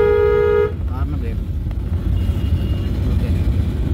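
A car horn sounds during a driving lesson: one short, loud honk at the start, followed by the low rumble of the moving car.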